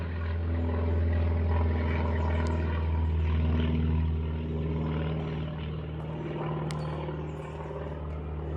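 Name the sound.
private airplane flying overhead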